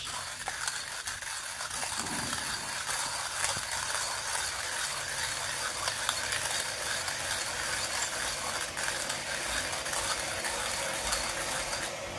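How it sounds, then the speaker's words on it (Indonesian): A Timemore hand coffee grinder crushes beans with a continuous ratcheting, crunching grind, faint and steady throughout with no speech. "kita lanjut giling lagi"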